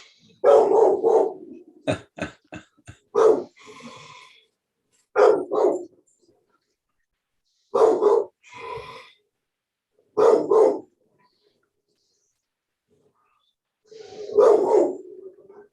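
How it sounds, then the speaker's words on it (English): A dog barks in loud, close bursts, single sharp barks and short clusters separated by pauses of silence, with a few softer growl-like tails after some barks. "And that barks enough to keep me from breaking into your house, Paul."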